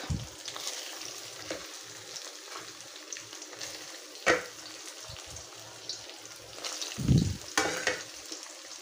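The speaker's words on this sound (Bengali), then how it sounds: "এবার আমি এই সয়াবিনগুলো এই তেলেই কিন্তু ভেজে নেব।" Soybean chunks fry in oil with turmeric and salt, a soft continuous sizzle under intermittent scraping stirs and a few louder knocks of the spoon against the pan, heard close with no talking.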